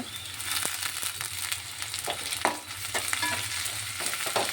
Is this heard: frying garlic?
yes